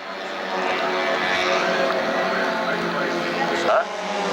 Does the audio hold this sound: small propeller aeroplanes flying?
yes